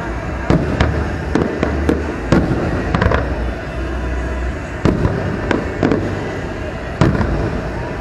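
Fireworks burst in a scattered series of sharp booms and crackles, some distant, some closer, over a constant noisy background of crowd and ambient sound at a Fourth of July show in West Palm Beach, Florida.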